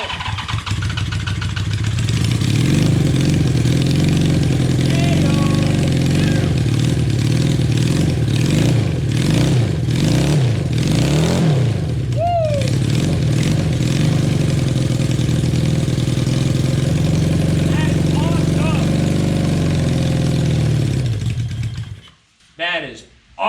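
A junkyard 550 engine with a straight pipe runs on a Little Tikes go kart, a loud, raspy, continuous roar that rises and falls with revving before cutting off abruptly near the end.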